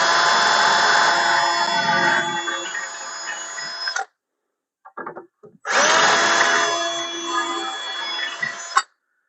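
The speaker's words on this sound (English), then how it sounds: "I'm going to pre-drill the hinge." A power drill pre-drills holes for a cabinet door hinge, running in two steady, loud whirring bursts of about four and three seconds with a short pause of small clicks and handling noise between them.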